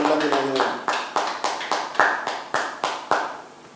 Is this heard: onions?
no